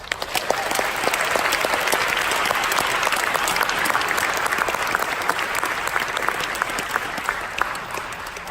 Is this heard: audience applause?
yes